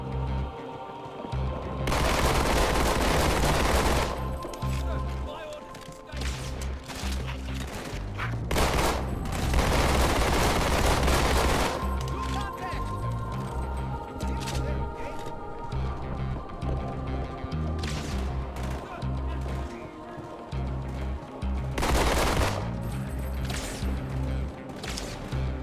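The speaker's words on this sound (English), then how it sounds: "I know I was supposed to play serious, but I can't help it when you get me two pistols like this" Rapid dual-pistol gunfire in the video game Halo 2, dense bursts of loud close shots with short pauses between volleys over a game soundtrack.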